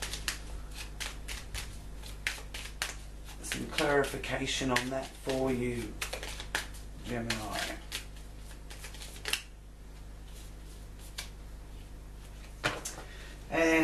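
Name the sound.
shuffling Divine Direction oracle cards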